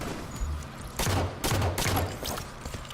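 Rapid gunfire from a sniper rifle and pistol in a Halo 5 competitive match, several loud sharp reports clustered close together over a busy game background.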